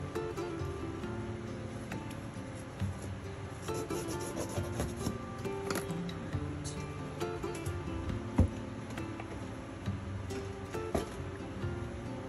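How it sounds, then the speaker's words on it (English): A popsicle stick rubs steadily along the edges of a wood cut-out being prepped for pouring, a soft close scraping and rasping that repeats at a low level. "take a popsicle stick and rub like this along the edges because it gives it a good seal"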